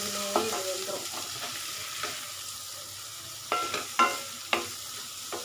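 Turmeric and chili powder being stirred into a bitter gourd stir-fry on a low simmer, a soft steady sizzle with several sharp spoon scrapes against the pan.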